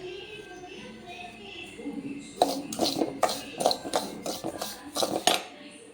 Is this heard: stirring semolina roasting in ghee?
yes